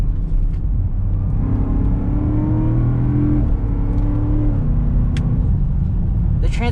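Engine of a 2022 Land Rover Defender 110 Carpathian Edition pulling hard under acceleration, a loud, steady in-cabin drone with rising engine tones that shift with a gearchange and keep climbing.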